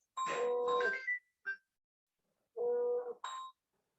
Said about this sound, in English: No, Professor Wahid is calling.